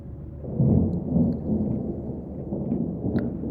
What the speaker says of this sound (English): I added a thunder at the end of the call.